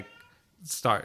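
A cat meows close by, a short drawn-out cry near the end of a brief moment that opens with faint, quiet tones.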